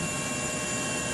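Rescue helicopters hover over a sinking ferry off South Korea, a constant loud, close rotor and engine roar with no break and no speech.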